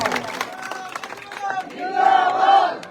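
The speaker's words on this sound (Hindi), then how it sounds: "एक बार जोरदार तालियां स्वागत कनिका जी बेनीवाल" A crowd at a village election rally in Kankdai, Khinvsar constituency, India, cheers and shouts in welcome, with scattered clapping mixed in; the voices rise louder toward the end.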